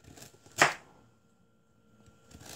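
Kitchen knife halving a carrot on a cutting board: a single sharp chop-and-thud near the start, close and distinct, followed by quiet and a faint second tap at the very end.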